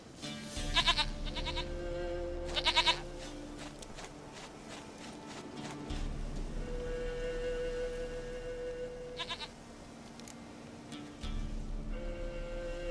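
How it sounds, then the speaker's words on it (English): Goats bleat in the video game The Witcher 3, with a few loud, short bleats standing out over footsteps and ambient game background. "Goat of mine, dearest, sweetest goat."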